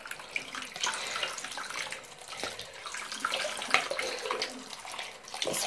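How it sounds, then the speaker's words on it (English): Water runs from a tap into a bathroom bowl, a continuous splashing gush with shifting intensity, close and fairly loud, with no voices. "is turn on the water."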